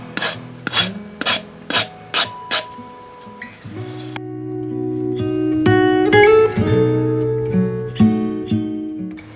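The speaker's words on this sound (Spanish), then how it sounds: "podemos quitar esto de aquí que sobra con una lima de uñas o con una lija de grano fino" A nail file rasping against plastic, first in several separate short strokes, then in faster continuous scraping that squeaks with shrill tones, close and loud.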